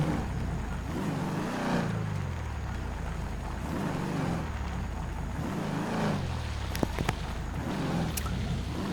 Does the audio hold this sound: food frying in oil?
no